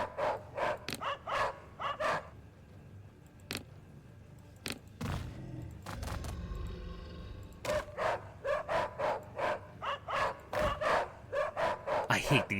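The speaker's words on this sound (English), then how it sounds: "I hate these dogs. They're so annoying. The sounds they make are so obnoxious." Dogs in a tabletop-style strategy video game bark in rapid repeated bursts, loud and close, with a brief pause mid-sequence before the barking resumes in quick succession.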